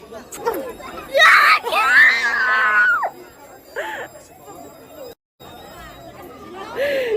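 A child's high-pitched screams and shrieks ring out close by in a burst, rising and falling amid lively chatter and other children's voices, with a brief dropout partway through before more cries near the end.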